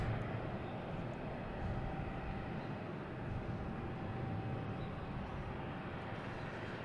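At Boston Logan Airport, a Boutique Air plane lines up on the runway, heard as a faint, distant, steady engine rumble and hum that continues without a break.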